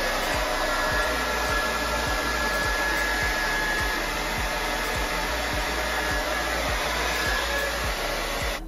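A hair dryer set to low heat blows continuously at close range, a steady loud whooshing hum with a faint high whine and no pauses.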